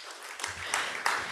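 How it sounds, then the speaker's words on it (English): An audience at a conference session on urban water innovation claps and cheers, starting quietly and then rising in bursts of louder whoops and applause. "And the audience, could you give us a cheer for them?"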